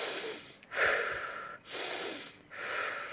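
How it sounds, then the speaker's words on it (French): Three deep, invigorating breaths drawn in one after another, each a close, airy inhale and exhale with short pauses between. "En gardant les yeux fermés, nous allons prendre plusieurs inspirations toniques."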